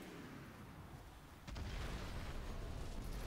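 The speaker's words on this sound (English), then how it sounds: "it's another Hummer, but it's gonna explode." A Hummer blows up in the video game Crysis: after a quiet stretch of low background noise, a sudden deep boom bursts in and leaves a sustained heavy rumble.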